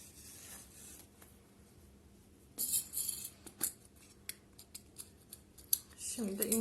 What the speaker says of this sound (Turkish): uzun bir ip koparıyorum, kesiyorum